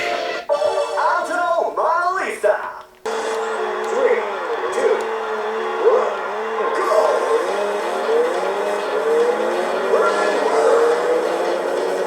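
Race car engines whine and tires squeal in a PS2 racing video game, a continuous loud stream of revving and shifting engine tones with a brief burst of other game sound at the start.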